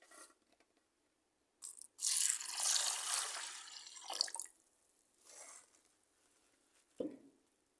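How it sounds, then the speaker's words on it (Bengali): Red lentils are rinsed with water in a bowl in a village kitchen: a quiet start, then a few seconds of loud splashing and swishing, followed by softer stirring sounds and a final small splash. "এখন আমি এই ডাউলটা ধুয়ে নেব পানি দিয়ে।"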